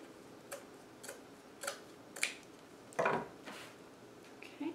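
Scissors snip through wreath material in a quiet room, giving a series of short, crisp cuts roughly every half second, with a few louder, fuller snips partway through and no talking.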